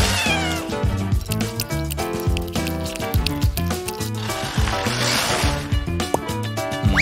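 A cat meows and caterwauls repeatedly over a busy background of music, the cries loud and close, coming in a rapid, uneven series of drawn-out calls.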